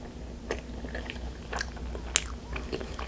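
Someone bites into and chews a soft custard cream donut from a convenience store, making a few quiet, soft, close mouth sounds spaced over a few seconds with no talking.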